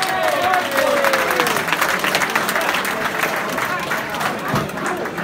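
Steady, dense crowd applause at an amateur boxing match in Northampton as a boxer is introduced. The clapping stays loud and sustained, with a voice briefly heard over it near the start.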